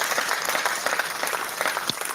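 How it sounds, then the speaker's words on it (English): Audience applause at a formal address, dense sustained clapping from a crowd at steady volume, with a faint voice underneath. "I think Dr. Ngozi deserves a hand of applause."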